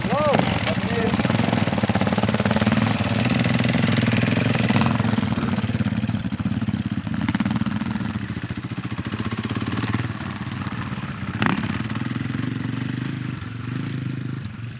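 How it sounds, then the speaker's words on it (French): Rough, loud engine rumble of off-road motorcycles running nearby, droning continuously with slight variations in pitch. "Les motos elles sont parties"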